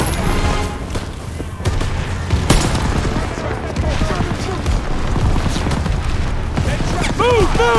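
Intense battle sounds from Call of Duty: WWII, with dense, rapid machine gun fire, gunshots and booms layered under shouted combat voices, loud and continuous throughout.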